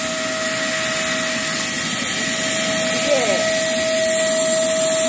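An electric air pump runs steadily with a constant whine and airy rush while inflating a camping air mattress, holding a flat drone throughout with no break.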